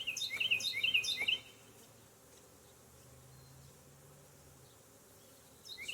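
Honey bees buzz around a queen cage, a loud burst of insect buzzing at first that drops to a softer, steady hum for the rest.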